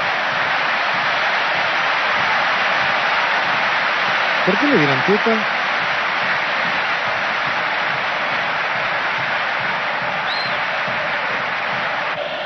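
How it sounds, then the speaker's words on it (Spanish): Stadium crowd giving an ovation for Basualdo at a 1992 River Plate versus Independiente match, a steady roar of many voices filling the stands under a radio commentator's voice, with a brief louder burst midway. "Escuchen la ovación de Basualdo"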